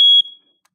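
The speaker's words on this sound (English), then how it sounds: "see if I can test it. Press it go off." A battery smoke alarm, pressed on its test button, sounds one loud, piercing, high-pitched beep that cuts off abruptly and leaves a short ringing decay.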